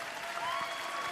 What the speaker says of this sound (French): Vous pouvez les applaudir très fort, Marina avec Morane.